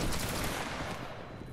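A massed volley of musket fire in an online line-battle video game between Bavarian and Prussian forces, one dense crashing burst at the start that rolls on as a ragged, decaying roar.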